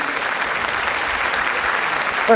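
Steady applause from a stand-up comedy audience, dense clapping throughout that swells briefly at the very end.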